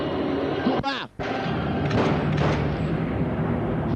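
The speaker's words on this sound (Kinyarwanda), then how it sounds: "Kirarabura kirekura amasasu." Gunfire and heavy booms ring out in a violent movie scene in short loud bursts, with a voice talking over and between the blasts.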